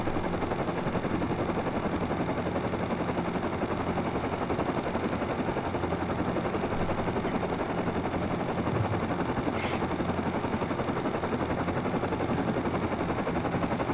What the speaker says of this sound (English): You shooting Doug?